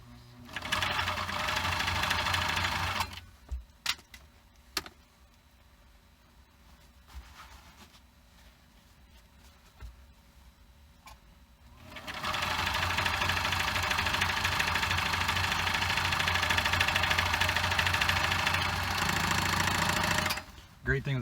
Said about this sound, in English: great thing with the serger is there's no backing up. It's straight in, straight out, which is nice.